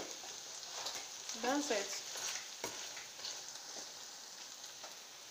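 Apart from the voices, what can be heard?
egg frying in oil in a pan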